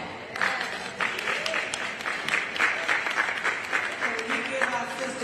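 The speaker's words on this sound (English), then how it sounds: "Round of applause now." Applause from an audience at a civil rights roundtable, clapping rising and holding under scattered crowd voices, with a few sharper individual claps standing out.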